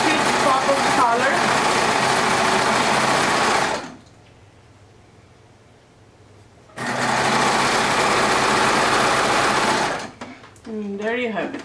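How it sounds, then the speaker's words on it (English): A cover stitch machine sewing binding runs loud and steady in two long bursts with a quiet pause between, close by, followed by a voice talking. "I prefer to use my cover stitch."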